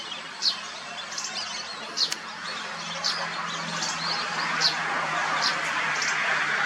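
Thin, high whistling duck calls come at scattered intervals, faint and distant over a steady outdoor hiss, at a birdwatching pond in Khukhan district, Sisaket, Thailand.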